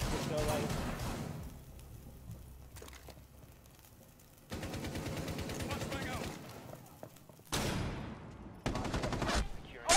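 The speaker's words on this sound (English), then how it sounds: "Oh, fucking shotguns." Shotgun blasts and other weapon fire in Rainbow Six Siege come as loud, broad bursts separated by quieter gaps, with a voice talking over parts of it.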